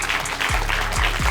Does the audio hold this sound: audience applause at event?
yes